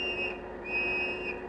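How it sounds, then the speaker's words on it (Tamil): A shrill police whistle blows in two sustained blasts with a short break between them, over a steady background rumble. "என்னது விசில் சத்தம் கேக்குது? Police whistle."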